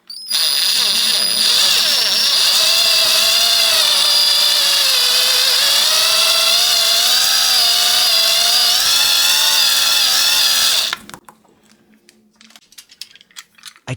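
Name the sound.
drilling a hole into a wine cork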